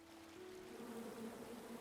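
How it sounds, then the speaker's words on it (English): Buzzing bees in the video game King's Quest, a steady low insect drone that holds throughout at moderate level with no talk over it. "Come at me, bees!"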